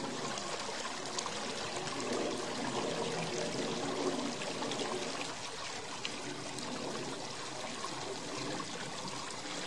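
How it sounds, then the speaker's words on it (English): Creek water rushes and splits around rocks in a desert stream bed in the Superstition Mountains, a steady, close, full-bodied burble and trickle that runs unbroken from start to finish with no voices. "I'm standing in the middle of the creek bed here as the water is splitting"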